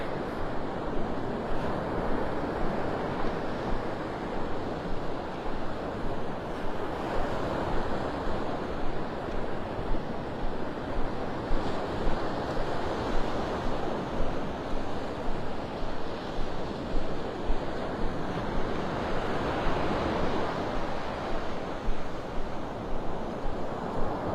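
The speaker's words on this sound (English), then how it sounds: "Listen to those waves." Continuous surf washing onto the beach at Pelican Bay, North Naples, Florida, a steady roar of breaking waves mixed with wind rumble, no voices.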